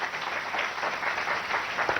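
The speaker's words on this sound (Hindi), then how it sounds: "जोरदार तालियों के साथ स्वागत कीजिए" Audience applause on the Innovate India stage of a business television show, a dense, steady wash of clapping throughout.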